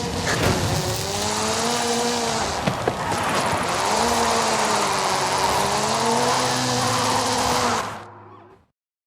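A car drifts in the Forza Horizon 5 racing game, its engine droning and rising and falling in pitch with tire squeal under it, steady and loud before cutting off near the end.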